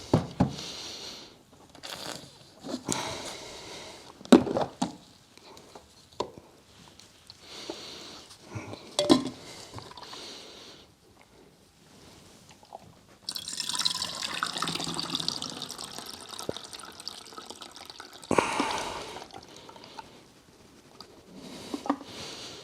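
Film fixer solution poured into a black-and-white film developing tank, a steady liquid pour for several seconds in the middle, with quieter handling clicks and knocks around it.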